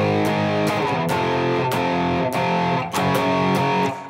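Loud, distorted electric guitar power chords play a riff from a song, struck in a driving rhythm of sharp, ringing strums with a brief pause near the end.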